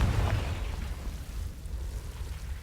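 A Confringo fire spell from Hogwarts Legacy bursts with a loud, close blast at the start, then rumbles and crackles away over the next couple of seconds.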